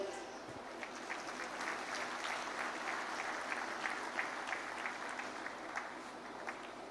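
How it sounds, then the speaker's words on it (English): An audience claps steadily at the inauguration of the Global Maritime India Summit 2023 in Mumbai, with a dense, even wash of mid-level applause that fills the hall throughout without fading. "Let us all have a resounding of claps to mark this remarkable achievement."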